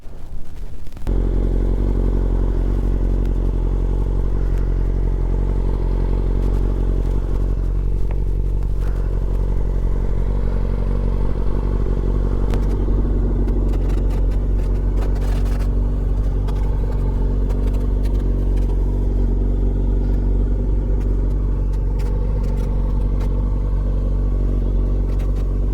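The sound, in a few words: motorcycle being ridden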